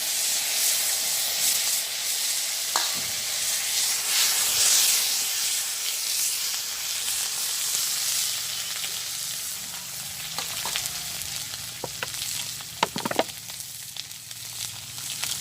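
A spice paste of ground onion, garlic, ginger and cumin sizzles and fries in hot oil in a village kitchen, a steady loud hiss with occasional crackles and stirring clicks toward the end.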